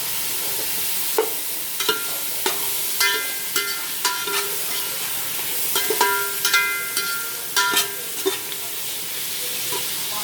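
Onions and tomatoes sautéing in a pan for home-style biryani, with a steady sizzle and repeated scraping stirs throughout, close and fairly quiet with no talking.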